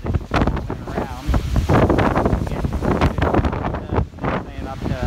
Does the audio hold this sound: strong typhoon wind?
yes